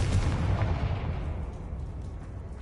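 A Confringo spell explosion in the Hogwarts Legacy video game: one loud, deep blast at the start, its rumbling boom slowly fading over the next couple of seconds, with no voices present.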